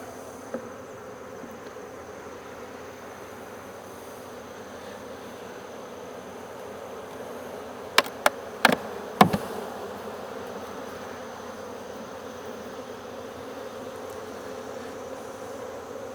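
Honey bees droning around beehives during a hive inspection, a steady low buzzing hum throughout, broken midway by a few sharp clicks, with no voices.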